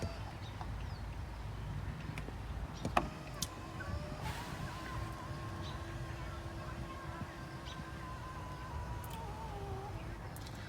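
Power-folding third-row seats in a 2020 Lincoln Aviator luxury SUV whir steadily as a motor drives them, a continuous electric hum lasting several seconds with a sharp click near the start, at moderate level inside the cabin.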